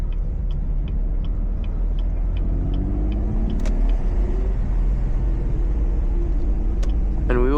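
A mostly stock car fitted with a Borla Attack axle-back exhaust drives at speed. A steady, deep exhaust rumble carries throughout, with the engine note climbing near the end and no talking.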